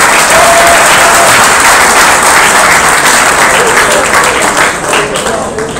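A large audience applauds steadily at an iftar dinner event, dense sustained clapping filling the room and tapering slightly near the end, with faint voices mixed in.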